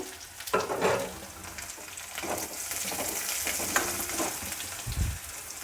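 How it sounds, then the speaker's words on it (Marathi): Chopped onion sautéing in a pan, a steady sizzle with intermittent scrapes of a spoon stirring, and a low thump near the end; no talking. "कांदा छानपैकी आपल्याला परतून घ्यायचं आहे"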